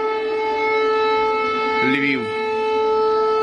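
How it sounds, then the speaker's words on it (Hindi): An air raid siren in Ukraine holds a sustained tone with steady overtones. A voice briefly speaks over it midway. "खार्किव में ये एयर रेड के सायरन बजते नजर आ रहे हैं।"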